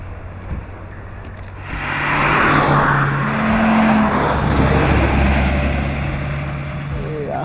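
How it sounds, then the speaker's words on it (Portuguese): A car passes by for a chase scene in a bank robbery film, its engine swelling from about two seconds in and holding loud before easing off, with a steady low hum throughout. "a gente gravar esses sons todos de ultrapassagem, de carreta, e gravar as freadas, as corridas"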